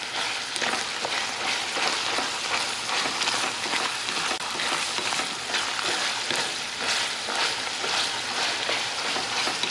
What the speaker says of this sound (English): let's check on our meat. It's been about 15 minutes and it's almost there.